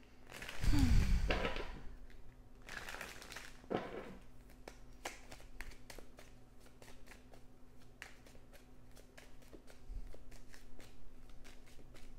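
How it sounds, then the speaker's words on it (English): Tarot cards being shuffled and pulled, with a burst of riffling and card flicks early on, then a long run of soft, scattered snaps and slides as cards are handled close by, no talk. "we're gonna pull a few cards here."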